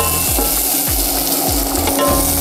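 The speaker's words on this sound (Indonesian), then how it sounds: "Tumis hingga mengeluarkan aroma wangi dari bawang merahnya." Sliced shallots sauté in a pan for a spicy tuna roll, a steady close sizzle of frying running throughout with a few soft stirring scrapes and no talking.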